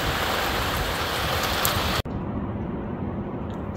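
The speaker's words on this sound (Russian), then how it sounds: "Кто-то просил дождик." Steady rain pours down in a dense, even hiss, briefly cut off midway before continuing at the same level.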